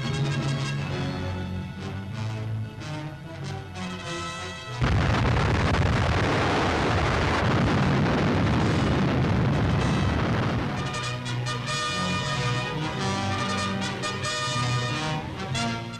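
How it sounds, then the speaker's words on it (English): Colossal demolition explosion at Heligoland in the North Sea, a sudden massive roar bursting in over background music and rumbling on for several seconds before fading back beneath the score, with no talk. "but a colossal explosion all the same"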